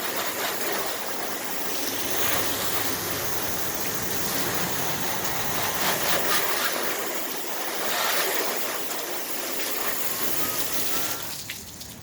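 A hose nozzle sprays water onto car panels in a continuous, loud rushing hiss that swells and eases slightly, running steadily for the whole stretch before tapering at the end.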